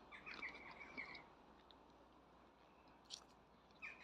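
Someone bites into and chews a crunchy cherry, giving a few soft close crunches and wet chewing sounds at irregular intervals, with faint birdsong chirping in the background.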